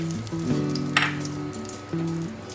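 Fried spice mix is tipped into hot oil in a home kitchen while cooking mutton curry, bringing a short burst of crackling sizzle with a brief spike, close and moderately loud, over a faint background tone.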